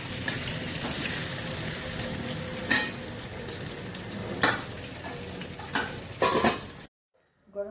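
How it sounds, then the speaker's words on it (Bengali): Garam masala and cumin seeds tempering in hot oil in a pan for masala fish, a steady close sizzle broken by several sharp spoon scrapes and clinks before it cuts to silence. "গরম মশলা, জিরে ফোড়ন করছি।"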